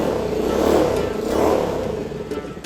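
A Motorstar Cafe 400 motorcycle engine runs steadily after a kickstart, loud and close, with a rough idle that swells and eases slightly without anyone speaking.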